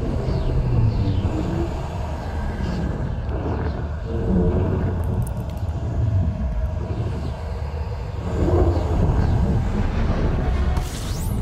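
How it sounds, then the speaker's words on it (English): The frame shift drive engages in Elite Dangerous as a sustained, loud engine roar that swells and rumbles in waves over about eleven seconds, with a bright whoosh near the end and no voices. "Friendship drive engaged."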